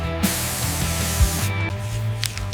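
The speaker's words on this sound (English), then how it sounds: "Spray throttle cleaner around the plate and TPS area." Throttle cleaner sprayed around a car's throttle plate and throttle position sensor, a steady close hiss lasting most of the moment, with a few short breaks and faint handling noise beneath.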